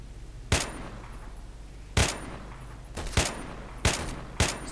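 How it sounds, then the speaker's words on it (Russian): Five sharp gunshots ring out at irregular intervals over a steady background hum, loud and close, in the video game S.T.A.L.K.E.R. "Стрельба тут настоящая, реальная."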